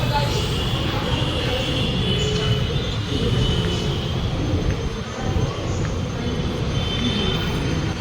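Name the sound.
metro train moving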